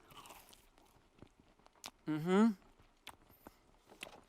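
Close crunchy bites and chewing of a few-days-old green donut, scattered soft clicks and munches with a brief vocal sound in the middle.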